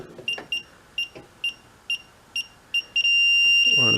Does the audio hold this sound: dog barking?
no